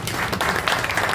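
Audience applause at a ceremony hosted by a housing cooperative federation for World Environment Day, a short burst of steady, dense clapping from a crowd, with no talk over it.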